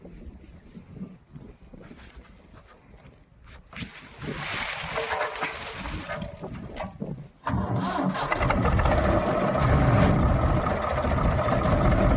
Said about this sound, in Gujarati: ચાલો ભરી લઈ તો ટ્રેક્ટર લઈ લે આગળ